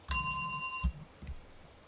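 A single bright ring of a bicycle bell, loud and close, with a sustained metallic tone that decays over about a second, followed by a couple of soft thumps.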